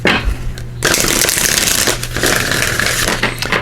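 Oracle cards being shuffled by hand for a solstice reading, a dense continuous riffling and rustling of card stock that fills most of the clip, close and fairly loud.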